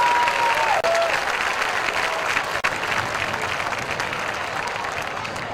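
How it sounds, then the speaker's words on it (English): A warm round of applause from a crowd at a high school hall of fame induction ceremony, steady and sustained at moderate level, with a brief faint tone near the start. "Let's give a warm round of applause for Investigative Sergeant Justin Hussle."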